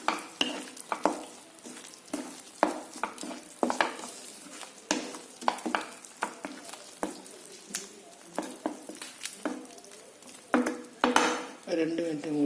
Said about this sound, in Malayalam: മുട്ടയിൽ മസാലയൊക്കെ പിടിക്കാൻ വേണ്ടി ഇളക്കി.